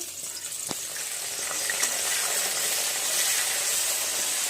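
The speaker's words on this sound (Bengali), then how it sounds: "পেঁয়াজ কুচি দিয়ে দিচ্ছি।" Chopped onions hit a hot pan with whole spices for a chicken dish, giving a sharp clatter at first and then a steady, loud sizzle that continues without talk.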